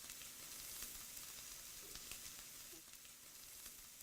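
Steaks sear in an oiled pan on an indoor stove, giving a soft, continuous sizzle with faint crackles throughout, fairly quiet and with no talking.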